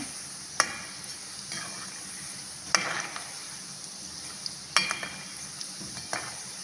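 Chicken balls bubbling as they deep-fry in oil, a soft steady sizzle broken by three sharp clinks of a utensil against the pan, with no voices.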